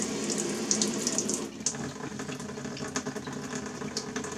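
Running water in a photographic print wash in a darkroom, a steady close hiss and splash that dips slightly partway through and carries on alone without talking.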